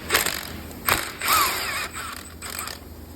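A ratchet undoes the 10mm bolt on the brake line clip of a 2007-2014 Ford Edge, giving a few quick close clicking bursts of pawl ratcheting with short pauses between.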